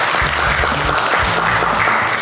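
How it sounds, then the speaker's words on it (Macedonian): Studio audience applause at a televised cooking show, a dense, steady burst of clapping filling the whole moment, loud and close with no talk over it. "Златко Таневски, еден аплауз ве молам."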